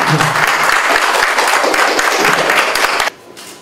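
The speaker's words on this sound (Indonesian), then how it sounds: "berikan tepuk tangan" Audience claps as prizes are handed out at a competition award ceremony, a dense, loud burst of applause with sharp individual claps that stops abruptly near the end, leaving faint room sound.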